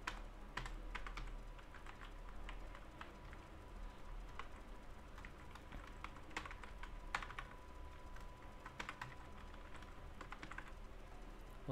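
Steady typing on a computer keyboard, a quiet run of light key clicks at an uneven pace with no talking over it.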